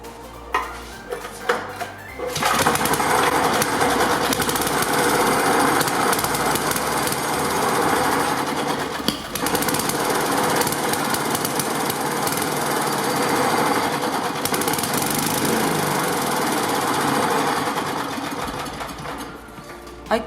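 An 8hp Briggs and Stratton engine on a 1988 Sno-Guard snowblower starts after a few sputters, then runs steadily with a loud, busy, rattling roar close by for most of the clip.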